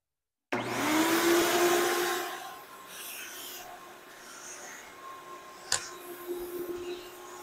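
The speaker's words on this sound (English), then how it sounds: "Hopefully it doesn't get too loud since I have a microphone on with me running the vacuum" A Buff Brite Fur-eel Pro 2 pet hair remover vacuum switches on abruptly and roars loudly, then settles into a steadier whine as it rubs and scrapes over carpet, with a sharp knock partway through.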